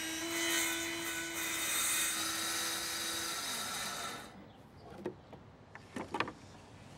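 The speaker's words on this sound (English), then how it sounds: "I'm gonna use a circular saw for this" A circular saw whines steadily at high pitch as it cuts wood, then cuts off abruptly, followed by a few sharp knocks and clatters of the workpiece.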